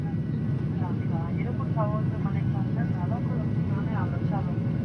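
Steady engine roar fills an airplane cabin during a flight out of Morocco, a constant drone throughout with people talking over it.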